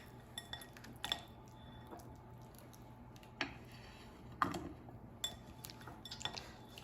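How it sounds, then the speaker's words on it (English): A spoon scrapes and lifts steamed carrots out of a microwave dish, giving a few soft clinks and scrapes spread across a quiet kitchen. "I'm going to use a spoon to remove carrots and leave water in a dish"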